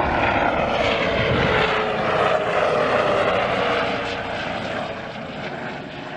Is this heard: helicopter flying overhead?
yes